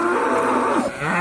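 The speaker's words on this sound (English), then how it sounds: "a herd of angry cows" A herd of agitated cows at a roadside gate in Ireland lets out a loud, close moo that wavers and drops in pitch, with no voices over it.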